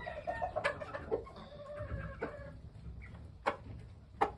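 A Pakistani Asil stag clucks nearby in short, throaty calls, scattered irregularly over a faint background rumble, fairly quiet overall.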